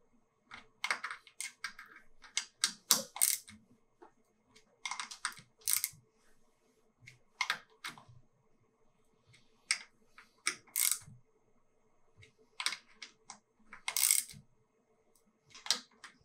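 A torque wrench set to 6 newton meters clicks as stem bolts on a Yoshimura ENDH stem are tightened back and forth, giving a run of sharp, close clicks in irregular clusters with short pauses between them.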